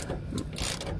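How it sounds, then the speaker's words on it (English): Ratchet tightening a C-clamp on a semi truck muffler pipe on a Freightliner Classic XL, a quick burst of close, rapid metallic clicks over about a second. "I put a C-clamp on there, and now I'm just taking the ratchet and tightening it up."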